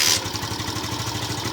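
A 2017 Yamaha Byson FI motorcycle, just after an oil change, idles steadily with a low, even, rhythmic engine putter close by.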